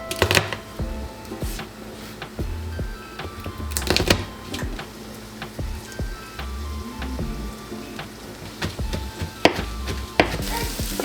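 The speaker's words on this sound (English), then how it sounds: "let's mince our garlic" Garlic being minced with a knife on a cutting board: a quick, irregular run of close, sharp chopping taps with brief pauses, loud and without any talk.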